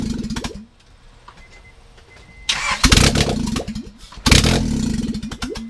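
A turbocharged Honda H22 engine with a stock sleeve cranks briefly, sputters, then catches in two loud, rough bursts of running, close by with no talk.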